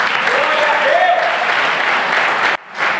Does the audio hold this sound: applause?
yes